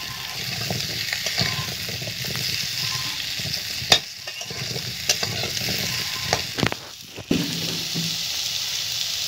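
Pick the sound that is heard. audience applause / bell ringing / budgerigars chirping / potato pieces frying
potato pieces frying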